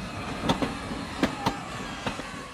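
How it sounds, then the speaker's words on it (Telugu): A passenger train starts and moves off, giving a low steady rumble with a loose rhythm of metallic wheel clacks and knocks. No voices are heard. "అయ్యో ట్రైన్ స్టార్ట్ అయింది"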